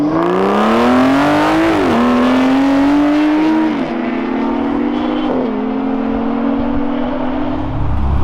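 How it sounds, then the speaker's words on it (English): Aston Martin Vanquish S and DB11 drag racing, loud engines holding a steady high note with distinct upshifts at roughly two-second intervals, the pitch dropping at each gear change before climbing again, close and continuous with no talk. "Aston Martin Drag Race."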